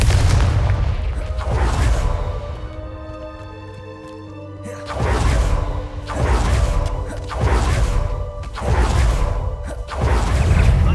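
Confringo fire explosion spell cast in Hogwarts Legacy, with a series of loud booming blasts and whooshes arriving in rhythmic bursts after a quieter tonal stretch, no talking.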